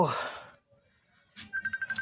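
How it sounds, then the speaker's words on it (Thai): Incoming phone call ringtone sounding at home during an exercise session; a short repeating electronic ring pattern begins after a brief speech burst and near silence, close and fairly clear. "สายเข้า ยังไม่คุยนะครับ ปฏิเสธสายนี้ก่อนนะครับ"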